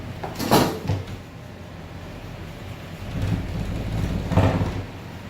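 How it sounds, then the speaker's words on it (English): An indoor door swinging shut in a quiet room, with two separate dull thuds a few seconds apart over a low background hum and no voices. "I won't come back if you close that door one more time."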